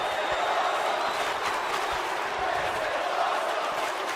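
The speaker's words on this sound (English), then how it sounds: "you hear this crowd here in Buffalo here tonight. They are fired up, and Cesaro trying to throw a big boot at AJ" Arena crowd in the WWE 2K wrestling video game, a steady, dense roar of cheering held at an even level throughout, with no distinct peaks.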